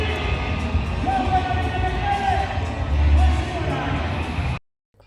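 A large stadium crowd at Kenya's Jamhuri Day celebrations roars and cheers as the president arrives, a dense, steady wall of voices and whoops that swells briefly near the end, then cuts off abruptly.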